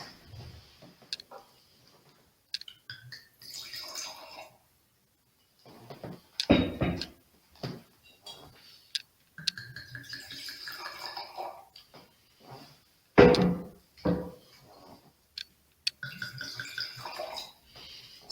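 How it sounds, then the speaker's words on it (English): Wine is poured into glasses for a four-glass tasting flight, in several separate bursts of splashing and glugging set apart by quiet gaps, with light clinks of glass. "So I just pour my flight, the next 4 wines."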